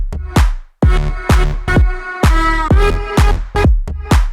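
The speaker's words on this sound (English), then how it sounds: "I'm gonna find a tom to do that" Tom drum hits land on the offbeats of a pumping electronic groove, steady, punchy strikes between deep sidechained bass and kick, looping evenly.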